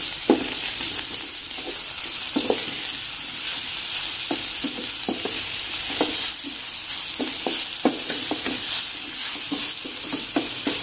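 Chopped mushrooms sauté in a hot pan with a loud, continuous hiss of sizzling and regular soft knocks of a spatula stirring, close up and steady throughout.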